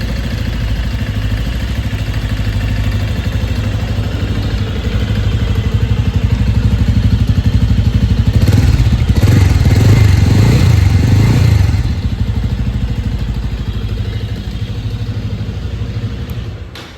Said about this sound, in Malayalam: ബജാജിൻ്റെ മറ്റൊരു വണ്ടിയുടെ എക്സോസ്റ്റിൻ്റെ സൗണ്ട് തന്നെയാണ് ഈ ബൈക്കിനും വരുന്നത്